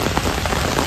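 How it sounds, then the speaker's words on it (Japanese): Heavy rain pouring steadily outdoors while someone walks, a dense, loud, constant hiss of drops close all around. "とんでもない雨の中 歩いてるわけなんですが"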